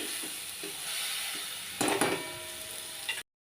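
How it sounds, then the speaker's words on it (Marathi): Soft, steady sizzle of spice masala frying in water and oil in a pan, with a few brief clinks and a louder scrape of stirring midway, then it cuts off. "हे मसाले चांगले या पाण्यामध्ये अगदी तेल सुटेपर्यंत छान परतून घ्यायचे"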